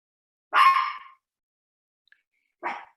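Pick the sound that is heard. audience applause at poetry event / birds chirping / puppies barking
puppies barking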